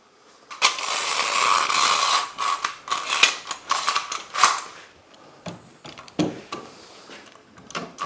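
A Bessey strap clamp is tightened with its ratchet, producing bursts of close, sharp clicking and creaking strap noise in uneven strokes, with pauses between, and no talking.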